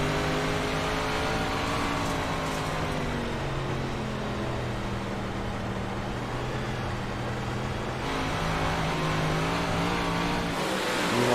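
A race car engine revs hard on a night track at a winter racing event, producing a loud, continuous, close roar whose pitch rises and falls with the throttle and never drops out.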